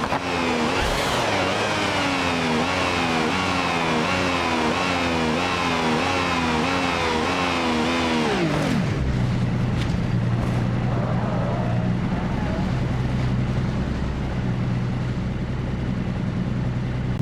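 A Lamborghini Murcielago revs hard in the BeamNG Drive video game, its engine note climbing in repeated rising sweeps through the gears before dropping abruptly into a sustained, rushing roar.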